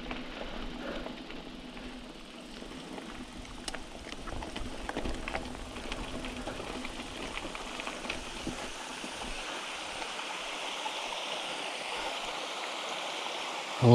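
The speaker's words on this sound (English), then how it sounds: "Made it to the waterfall." A waterfall beside a mountain bike trail in a metro park, a steady broadband rush of falling water that continues throughout at moderate level, with faint scattered clicks and knocks.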